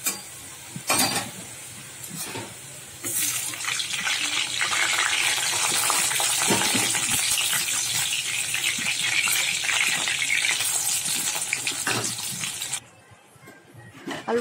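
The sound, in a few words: potatoes with salt and turmeric frying in oil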